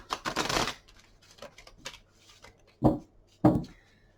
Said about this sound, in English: I might just give them a quick shuffle for you